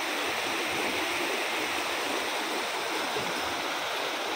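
A river rushes past a glamping campsite in Citamiang, Bogor, a steady, loud broadband wash of flowing water with no pauses and no voices.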